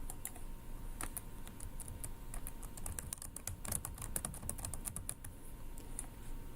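Steady typing on a computer keyboard, rapid clustered key clicks continuing throughout at a close, moderate level with no voices.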